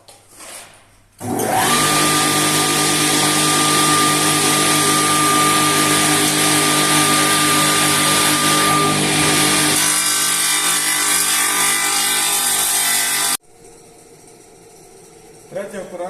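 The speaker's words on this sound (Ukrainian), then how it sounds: "приступаємо до різання деревини" A power saw guided along a rail spins up and cuts wood for door trim in one long, loud, steady whine for about twelve seconds, then stops abruptly, leaving quiet workshop noise.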